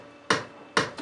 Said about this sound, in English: we've got a secondary kick, which is like a high end kind of a kick